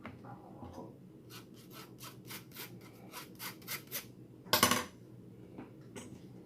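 Flour, baking powder and baking soda are sifted into a banana bread batter: a quick series of soft, rhythmic metallic scratches and taps from a sieve, close and fairly quiet, with one louder rattling burst near the end.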